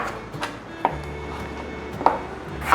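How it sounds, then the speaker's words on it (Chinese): A knife dices potato on a cutting board, with three sharp, separate chops spaced about a second apart over a low room hum. "把马铃薯切丁"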